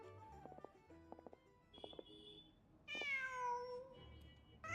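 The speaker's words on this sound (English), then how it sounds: "Just a cat." A cat in Genshin Impact gives a single drawn-out meow near the end, clear and fairly close, after a stretch of soft game music with faint tonal notes.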